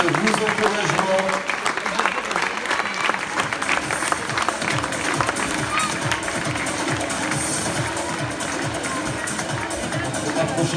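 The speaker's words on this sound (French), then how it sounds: "Sous vos applaudissements, évidemment, nous méritons toutes et tous vos encouragements" Crowd at a handball club's official season team presentation applauds: continuous clapping mixed with crowd noise and voices talking over it throughout.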